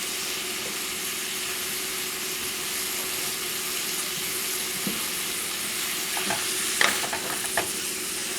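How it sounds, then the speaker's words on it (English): Cabbage and vegetables sizzle steadily as they stir-fry in a pan, a dense continuous hiss with a few clinks and scrapes of stirring toward the end, no voices. "you can hear that sizzling, that's good"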